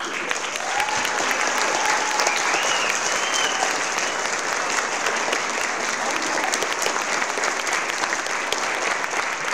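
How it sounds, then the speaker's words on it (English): Sustained applause from the audience at a college Christmas concert, a thick continuous roar of clapping that holds steady for nearly ten seconds, with faint crowd voices mixed beneath. "Can we have a round of applause for G1?"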